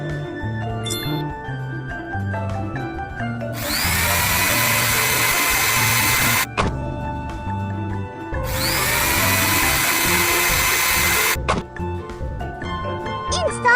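Cartoon excavator's drill attachment breaking slate rock: two loud sustained bursts of harsh grinding drilling, each about three seconds, over cheerful background music.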